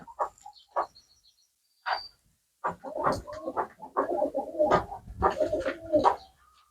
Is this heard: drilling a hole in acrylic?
no